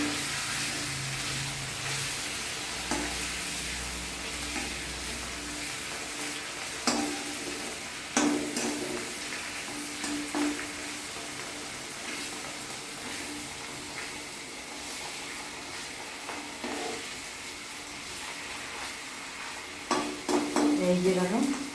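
Paneer frying in butter gives a steady, close sizzling hiss that runs for the whole stretch, broken by occasional clinks and scrapes of stirring, with a louder clatter of utensils near the end.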